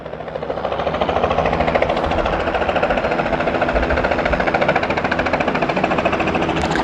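A loud, steady engine roar with a churning mechanical drone holds constant throughout, a helicopter landing close by in Bhusawal.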